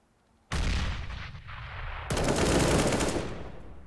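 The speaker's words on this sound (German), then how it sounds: "Also Mighty schießt da jetzt" Gunfire in Counter-Strike on the Overpass map: a sudden loud burst of rapid automatic shots, a brief dip, then a second, denser volley that trails off, with no voices.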